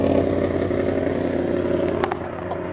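A Ford Escort rally car engine roars past close by at a rally, loud and sustained with a steady mid-pitched drone and a brief rattling burst near the end.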